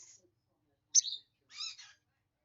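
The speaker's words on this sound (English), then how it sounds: "Are you talking to the big bird?" A pet bird in a quiet room gives a few short, clear chirps: one faint note at the start, then two bright calls about half a second apart.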